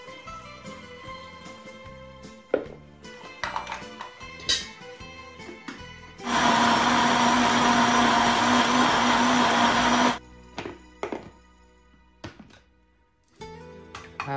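An electric blender grinds crab with fish sauce and water in a loud, steady whir lasting about four seconds, framed by close kitchen clunks and taps before and after.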